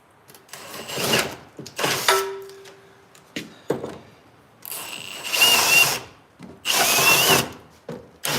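A power drill in a woodworking shop runs in several separate bursts of varying length, loud and close, with short pauses of quiet between them and a brief steady tone near the middle.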